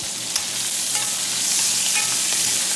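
Chili sautéed in hot oil in a wok, a steady sizzle with faint stirring scrapes, heard up close without speech.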